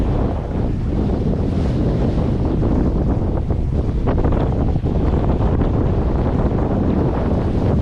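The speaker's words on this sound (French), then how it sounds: "Donc le vent, je vous le montre" Strong wind roars across the microphone at sea aboard a sailboat under full mainsail and jib, gusting around 22 knots on a crossing from Puerto Rico to the Bahamas, with waves and rushing water beneath, loud and continuous throughout.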